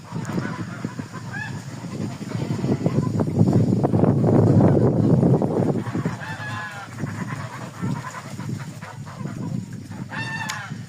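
White Muscovy drakes call in a few short, harsh bursts spread across the clip, over a steady rustling, windy farmyard background.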